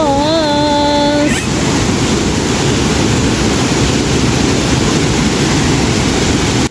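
Tinuy-an Falls, a broad waterfall, roars as a loud, steady wash of rushing water. A brief tonal chime sounds at the very start.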